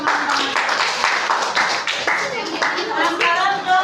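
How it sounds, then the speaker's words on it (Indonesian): A classroom of junior high students claps together in a lively burst of applause, dense rapid hand claps rising and falling close by, with children's voices calling out over the clapping. "Tepuk tangan untuk Rati dan teman-teman"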